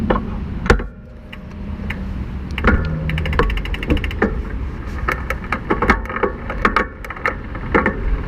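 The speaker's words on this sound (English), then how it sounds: "so I'm going to shift through the gears a little bit" On an IZIP E3 Moda electric bike, the gears shift repeatedly with light ticking and clicking, heard close over steady road and drivetrain noise while riding.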